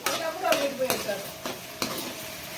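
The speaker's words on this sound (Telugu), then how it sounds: "పచ్చిమిర్చి కొంచెం సాల్ట్ ఇవి కొంచెం దోరగా ఫ్రై చేసుకోవాలి" Green chillies and salt are fried in a pan with a soft sizzle. A spatula scrapes and clinks a few times, close up, with no talking, during cooking for a brinjal and sesame dish.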